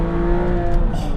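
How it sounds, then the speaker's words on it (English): A Porsche 911 engine revs close by, a loud sustained high-pitched growl that holds steady and swells slightly at the end. "It's still got a high-pitched growl though."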